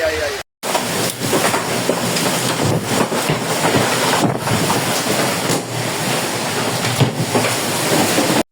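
Heavy rain and strong gusts of wind in a storm in the Marsberg area of Hochsauerland, Germany, a loud, dense, continuous roar of downpour and buffeting wind with no talk.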